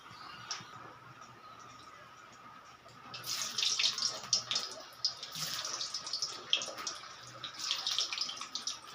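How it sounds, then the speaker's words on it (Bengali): Sago pakoras frying in hot oil, a steady close sizzle that swells and crackles more busily after a few seconds, with scattered sharp pops throughout. "এবারে এর মধ্যে আমি বড়াগুলো ভেজে নেব।"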